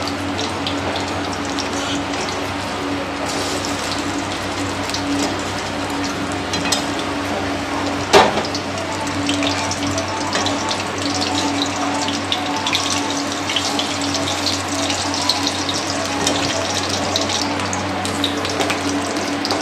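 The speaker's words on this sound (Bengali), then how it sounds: "আমি এইভাবে একে একে সব ফুলগুলো ভেজে নেব" Pumpkin flower fritters fry in oil with a loud, continuous hiss that stays even throughout, marked by one brief sharp crackle partway through, and no talking.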